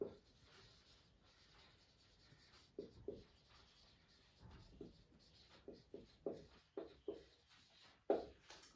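Chalk or marker scratches across a classroom board in a chemistry lesson on states of matter, a run of short strokes growing firmer toward the end, fairly close with faint room background and no talk.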